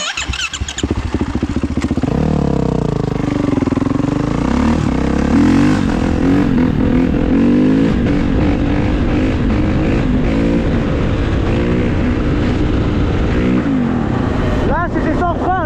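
A motorcycle held in a wheelie with no brakes, using only engine braking: loud, close engine revving that rises and falls continuously, with someone talking over it.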